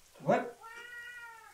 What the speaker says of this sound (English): This guy keeps meowing.